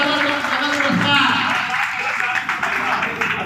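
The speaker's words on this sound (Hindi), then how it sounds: "जोरदार तालियों से" Loud, dense applause from an audience at a community prize-giving ceremony for a Class 12 student winner, steady clapping that fills the whole stretch with a slight swell near the middle.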